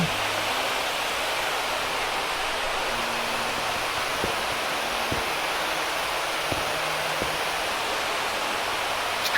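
Rain and flowing water in the Minecraft video game make a steady, even hiss like a stream or waterfall, with faint tonal game sounds and brief clicks scattered over it.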